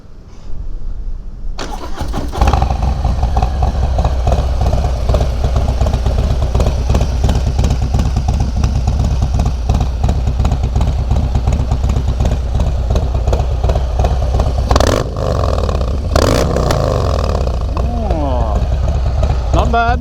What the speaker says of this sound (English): we better have a listen to this Bassani pipe